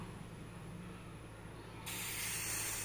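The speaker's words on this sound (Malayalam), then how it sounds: "അപ്പോൾ നമ്മുടെ ഫാൻ ചൂടായി, ഇതിലേക്ക് നെയ്യ് ഒഴിക്കാം." Ghee is poured into a heated pan: after a quiet stretch, a sudden loud, broad sizzling hiss breaks out and continues steadily to the end.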